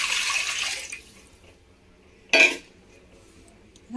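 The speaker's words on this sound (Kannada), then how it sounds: "ಒಂದು ಖಾಲಿ ಪಾತ್ರೆಗೆ ಒಂದು ಸ್ವಲ್ಪ ನೀರು ಹಾಕ್ತೀನಿ" A little water is poured into an empty vessel, a brief close hissing splash followed by silence and a single sharp metallic clink of the pot.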